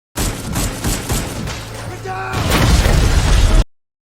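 A blast in an action film about a lone man against a group of terrorists: gunshot crackle and pops give way to a loud, sustained roaring explosion that cuts off abruptly.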